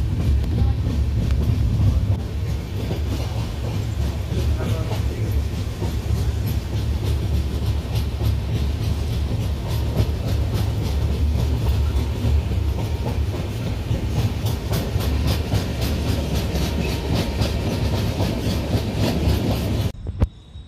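A train at a railway station rumbles steadily with rhythmic clickety-clack of wheels on rails, loud and close, continuing throughout with a brief cutoff at the end.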